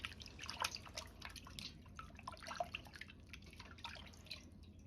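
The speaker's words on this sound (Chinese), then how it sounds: "先放入水中清洗乾淨。" A block of pressed tofu gets rinsed in water, with soft close splashes, drips and trickles in an irregular rhythm, quiet and without talk.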